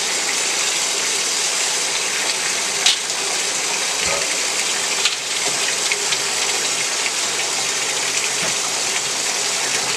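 Water gushes steadily into a container for washing vegetables such as celery, a continuous close rushing pour with slight splashing that runs the whole time without any voices.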